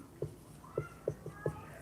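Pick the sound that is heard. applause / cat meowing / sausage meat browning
cat meowing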